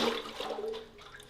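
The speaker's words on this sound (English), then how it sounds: "when you have water in these things, the water shifts back and forth" A short, close-up slosh of water moving inside a hollow metal keg, with a wet, rushing swish that fades.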